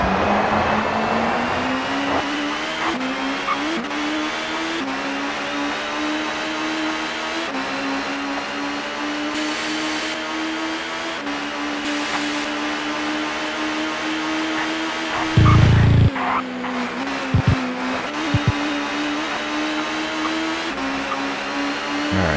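Touring cars racing in the TOCA Touring Car Championship video game: a steady, droning engine whine holds almost without a break, with a few brief thumps and shifts in pitch along the way.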